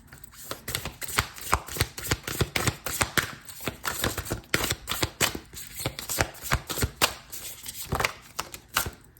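Tarot cards shuffled by hand before a card is drawn, a rapid run of crisp riffling slaps and flutters in uneven bursts, close and fairly loud, with no talking.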